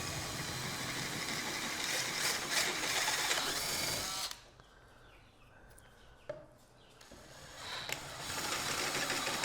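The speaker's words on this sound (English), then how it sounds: "I think I'm just going to have to drill these holes out bigger so that it'll fit screws that I actually do have." A drill runs steadily and loudly on an LC20 mill part, opening screw holes to a larger size, cuts off abruptly midway, leaving a quiet stretch with a brief clunk, then whirs up again to full speed.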